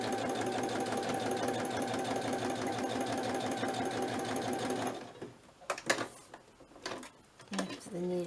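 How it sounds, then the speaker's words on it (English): A sewing machine stitches a seam up either side of a piece of fabric, running continuously with a rapid, even needle rhythm for about five seconds, then stopping, followed by handling clicks and brief speech. "And I'm just going to sew up either side."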